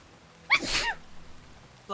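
A single sharp human sneeze, close and clear, rising abruptly and fading over about half a second against a quiet background.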